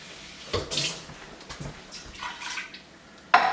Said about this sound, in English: We're going to add a can of water